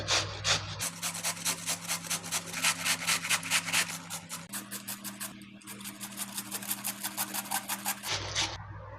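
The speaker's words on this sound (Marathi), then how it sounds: "तर हा कोबीचा कांदा आता आपल्याला किसून घ्यायचा" Cabbage grated by hand for cabbage manchurian makes quick rhythmic rasping strokes, close and steady, with a faint low hum in the background and short pauses near the start and end.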